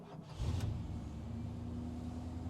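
A 1979 Chevy K10 pickup engine cranks briefly, then catches and settles into a steady, rumbling idle close by, with no voices.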